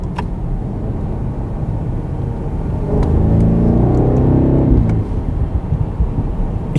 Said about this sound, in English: We do have some slight burbles in the exhaust.